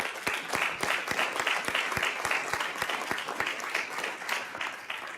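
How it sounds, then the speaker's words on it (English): A school district governing board meeting audience applauds its staff with sparse, distinct hand claps at a brisk, uneven rhythm, moderately near and fairly quiet in a large room. "I want to give them a round of applause because our staff are what make this a really special place"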